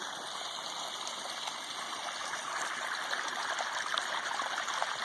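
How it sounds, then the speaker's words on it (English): Water rushes and gushes steadily into a DIY irrigation retention pond, a continuous fairly faint flow with no voices. "See, that's the water coming in."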